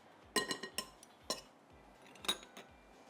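A spoon clinks and scrapes against a bowl while chocolate mint cookie dough is mixed with flour, giving a handful of sharp, close metallic taps in an otherwise quiet kitchen with no talking.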